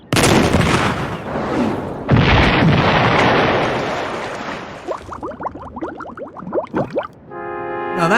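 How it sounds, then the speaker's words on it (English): In the Destination Treasure Island video game, a cannon fires with a loud booming blast that rolls into a long rumbling explosion, followed by crackling, scattered debris sounds and rising tonal effects as it fades. "I loaded the cannon and adjusted the sight."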